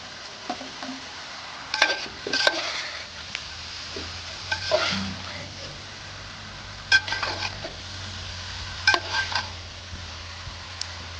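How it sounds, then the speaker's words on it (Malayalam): Small carrot pieces being stirred into spicy Idukki-style rabbit perattu in a pan, with a handful of sharp scraping and clinking bursts spaced a few seconds apart over a faint, steady sizzle. "ആ ക്യാരറ്റും കൂടി ഇതിൻ്റെ കൂടെ ഇട്ട് മിക്സ് ചെയ്യുക"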